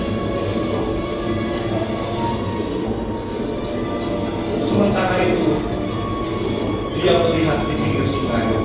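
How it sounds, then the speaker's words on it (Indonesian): A train rumbles steadily as it passes under a railway bridge, with brief louder clatters and screeches near the end, under a person talking. "Namun tiba-tiba ada kereta api yang datang bukan pada waktunya."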